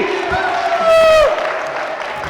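A crowd on a studio game show cheers and shouts with scattered clapping, rising into a sustained whoop-like swell midway before settling back, with a voice speaking over it.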